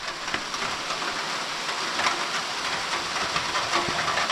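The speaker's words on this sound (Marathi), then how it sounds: "आता पाऊस आला हा बघा जोर वाढला" Heavy monsoon rain in the Konkan countryside hisses down in a dense, steady wash of noise that does not let up.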